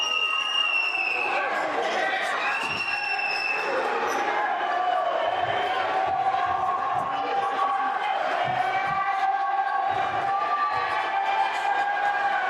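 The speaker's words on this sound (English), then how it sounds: "Crowd is very much into it in this defensive possession." High school basketball crowd at a Memorial Tigers versus Bloomfield state tournament game, cheering loudly and continuously during a defensive possession, with rhythmic chanting, shouts and shoe squeaks over a steady roar.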